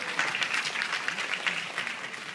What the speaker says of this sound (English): you can applaud any time you like